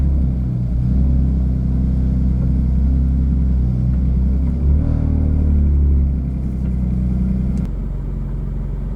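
A BMW F80 M3 drift car with a chassis-mounted shifter idles loudly with a deep, steady engine rumble, swelling with a brief rev before settling back to a lower idle.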